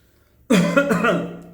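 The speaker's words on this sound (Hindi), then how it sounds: "खांसी हुआ" A single sharp human cough, or throat clear, bursting out after near silence and trailing off over about a second, close and fairly loud.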